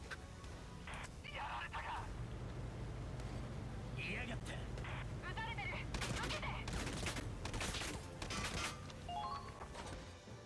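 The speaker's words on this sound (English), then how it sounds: "proceed to shoot you in the face with the machine gun" Rapid automatic gunfire bursts from a machine gun in a tank-battle video game, crackling repeatedly over a steady engine-like drone, with a voice talking throughout.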